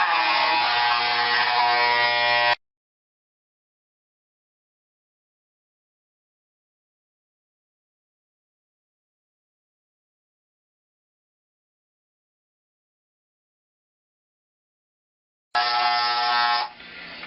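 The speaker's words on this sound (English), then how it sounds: "This makes a lot of noise because it's a lot older. It's a really old trimmer actually." An old electric hair trimmer shaving a head gives a loud, steady, rough buzz for about two and a half seconds, cuts to silence, then starts buzzing again near the end.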